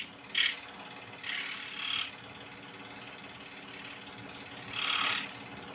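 Scroll saw lightly trimming wood in a home workshop, a few short buzzing cutting bursts separated by pauses over a faint steady motor hum, close and fairly quiet.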